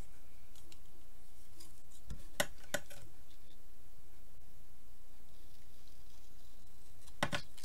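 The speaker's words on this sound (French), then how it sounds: "je mets ma première bande que je coupe" Double-sided tape being cut into a strip, heard as a few faint, sharp snips spaced out over quiet room tone.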